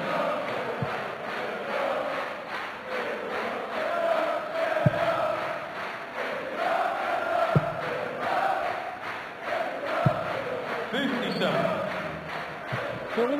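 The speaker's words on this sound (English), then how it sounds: "when you get a crowd as big as this, and even the Premier League crowds, when you get a background noise like this" A large darts championship crowd in Germany roars in the background, a continuous murmur of cheering with a few sharp shouts and whistles, while a commentator talks over it.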